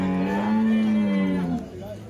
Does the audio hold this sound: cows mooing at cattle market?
yes